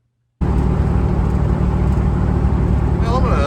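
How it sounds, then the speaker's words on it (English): Car driving steadily after a DIY garage front end alignment with caster and toe plates, a loud continuous engine and road rumble from inside the cabin after a short silent start. "We'll take it for a drive."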